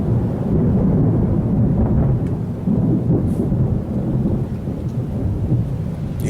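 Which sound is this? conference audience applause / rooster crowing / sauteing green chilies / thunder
thunder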